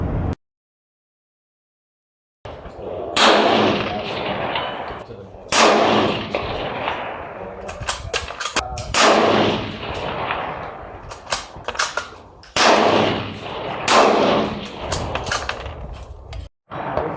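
Rifle shots from a CZ 527 at an outdoor range, several loud sharp cracks fired one at a time with gaps between them and each report ringing out briefly, and no talking.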